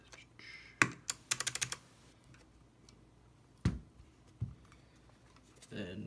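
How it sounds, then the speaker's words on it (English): An escape keycap pressed onto an Alps switch gives a few sharp plastic clicks and a quick burst of rapid taps, then two more isolated knocks, close and crisp against a quiet room. "so I'm going to put the escape key on"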